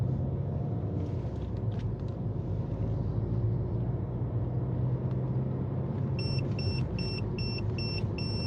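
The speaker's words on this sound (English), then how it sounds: "the audible speed alarm is pretty continuous" Steady car cabin rumble, then from about six seconds a regular series of short high electronic beeps from a car head-up display's speed alarm, repeating evenly near the end.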